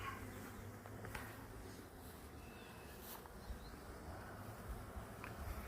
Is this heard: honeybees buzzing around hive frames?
yes